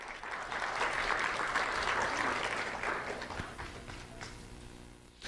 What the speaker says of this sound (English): Let's have a round of applause for Carson Branch.